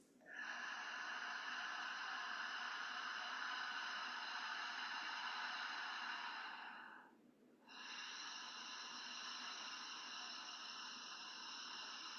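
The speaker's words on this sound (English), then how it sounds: "creating that soft audible sound of ha at the back of your throat." Exaggerated ujjayi breathing through the open mouth during chair yoga, a long, steady, breathy throat hiss held for several seconds, then a brief gap and another sustained breath, close and alone.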